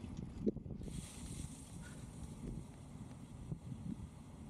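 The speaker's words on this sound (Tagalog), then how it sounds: "Medyo malakas ang hangin at malamig." Strong cold wind buffeting a microphone during a bike ride, a low, gusty rumble with soft thumps that continues steadily at moderate level without speech.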